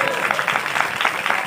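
Congregation at an Odia church service clapping loudly together, a dense, steady burst of many hands close by for a moment.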